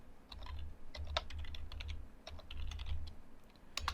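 Code is typed on a computer keyboard in quick, irregular bursts of light clicking keystrokes, close and fairly quiet over a low background hum, with no speech.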